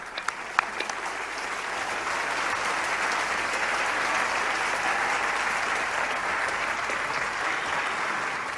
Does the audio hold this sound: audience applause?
yes